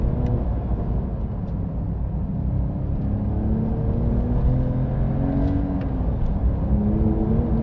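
2021 Porsche 911 992 Carrera GTS engine pulling hard through the gears from inside the car, a steady rising roar with climbing pitch sweeps, moderately loud over road noise.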